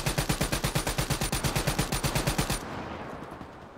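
Rapid automatic gunfire in the video game Black Ops 3, a loud sustained burst of about twenty evenly spaced shots that stops abruptly, leaving a brief fading tail.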